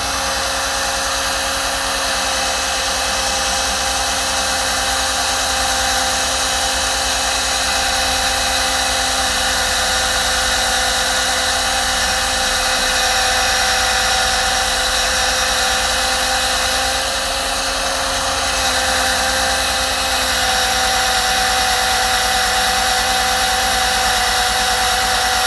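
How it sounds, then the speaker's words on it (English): A steady high-pitched whine of a power drill runs continuously, close and loud, with no pauses. "Let's just say I want to drill a hole right here"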